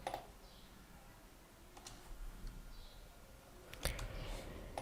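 Scattered keystrokes on a computer keyboard enter a name into a sign-up form, a few faint, close clicks in short bursts over quiet room tone.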